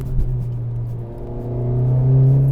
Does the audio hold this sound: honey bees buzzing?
no